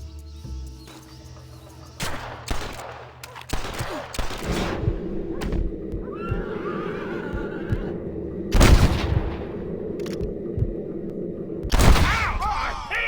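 Sharp, loud gunshots crack out in Red Dead Redemption during a shootout, with an irregular burst of several close shots early, then two heavy blasts later over rumbling game ambience.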